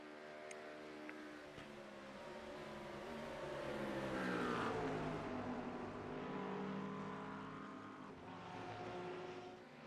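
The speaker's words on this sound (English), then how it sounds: "Through the Porsche curves, Manuel does close up slightly to the back of the Mustang." Race cars in a GT3 sprint racing video game, including a McLaren, Porsche and Mustang, droning and whining as engines rise and fall in pitch while cars pass close by, at moderate volume without talk.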